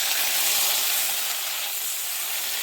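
Water hits a hot pan of fried bata fish for a turmeric-free fish curry, giving off a loud, steady steam hiss and sizzle that lasts a couple of seconds. No voices can be heard.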